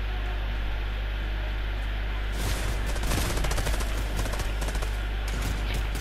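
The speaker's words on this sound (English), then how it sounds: "that's a normal combat SMG" Rapid automatic fire from a combat SMG in Fortnite cuts in midway over steady background noise, a dense, loud burst of close shots that rattles on for several seconds.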